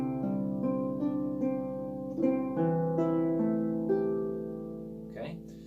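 Piano chords in C moving through a I–vi–IV–V progression, struck one after another in a steady rhythm with sustained, ringing tones, close and clear with no talking.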